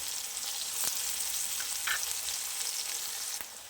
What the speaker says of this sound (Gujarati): રાઈ જીરું તતડી જાય પછી એમાં હિંગ ઉમેરીશું. જેવી સમારેલી એક ડુંગળી ઉમેરી દઈશું.